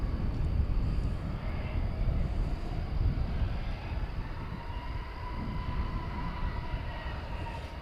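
American Airlines jet taking off from runway 18 left at Dallas Fort Worth airport, heard as a continuous heavy rumbling roar with a faint rising engine whine, fairly loud and unbroken, with no voices.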